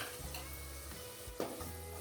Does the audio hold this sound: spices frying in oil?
yes